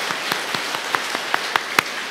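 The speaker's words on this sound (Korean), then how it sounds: "우리 큰 박수로 맞이해 주시기 바랍니다." A church congregation claps in a slow, even rhythm of about ten distinct claps, each one crisp and separate, in a reverberant room with no talking.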